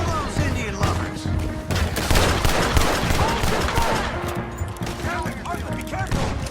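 Rapid gunfire from a Red Dead Redemption 2 shootout, dense overlapping shots and bursts throughout, loud and close, with shouted voices mixed in.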